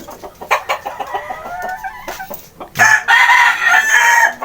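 Chickens cluck close by on a chicken farm, then a rooster crows loudly and at length, with more clucking and farmyard noise around it.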